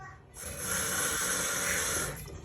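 Tap water running steadily while soybeans are rinsed in a kitchen sink, a close, even rushing stream that swells after a short start and eases off at the end.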